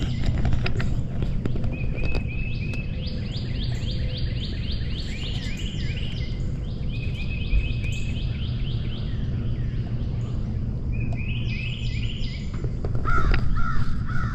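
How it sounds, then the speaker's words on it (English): Birds calling at dawn on a Florida trail campsite in White Springs, repeated harsh crow-like caws in rapid bursts over a low rumbling background, fairly near and clear. "The birdies are singing and it's dark 30."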